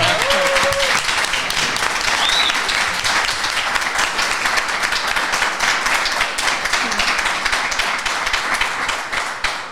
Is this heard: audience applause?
yes